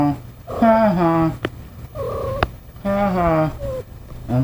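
A domestic cat in heat purring with a steady low rumble close by, broken by loud, drawn-out, rising and falling meow-like calls.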